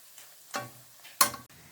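Chana dal pieces deep-frying in hot ghee give short sizzling bursts, two sharper crackles and a few softer hisses, close and quiet, with no talking.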